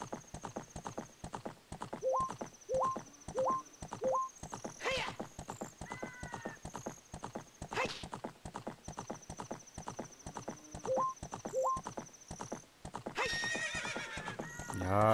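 Rapid clip-clop of a horse's hooves at a steady gallop in The Legend of Zelda: Ocarina of Time, with a couple of loud whinnies and a brief burst of game-like tones near the end.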